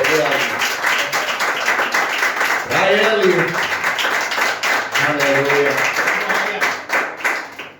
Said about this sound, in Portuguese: Tem uma salva de palmas